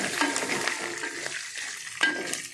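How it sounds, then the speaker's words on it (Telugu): A tempering of chana dal, urad dal, cumin and mustard seeds frying in hot oil, a close, steady sizzle with light stirring scrapes, and no talking. "ఇదిగోండి పోపు ఈ విధంగా వేగుతుంది చూడండి"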